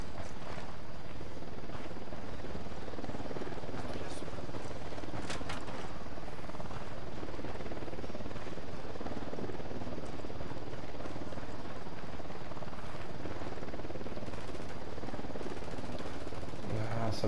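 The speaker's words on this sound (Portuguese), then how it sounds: "Helicóptero chegando." A helicopter's rotor thrum fills the scene steadily for a long stretch in the video game Tom Clancy's Ghost Recon Wildlands, with scattered sharp bangs like gunfire breaking through the din.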